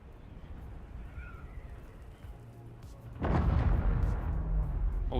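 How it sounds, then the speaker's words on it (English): A sudden booming blast from the Dune Awakening video game erupts partway through, breaking a quieter ambient backdrop and then rumbling on loudly with no talk over it. "What was that? I heard an explosion."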